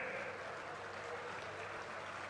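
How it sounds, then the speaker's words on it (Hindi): Crowd at a BJP election rally in Gharaunda, Karnal, Haryana applauding, a steady, distant wash of clapping with no clear individual claps. "एक बार जोरदार तालियों के साथ आपके जोश का परिचय।"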